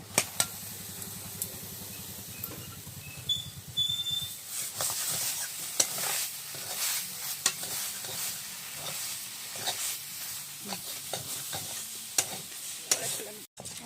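Scraping and stirring in a wok over a steady sizzle of pitha filling frying, with sharp clicks of a utensil against the pan.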